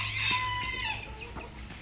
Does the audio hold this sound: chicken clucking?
yes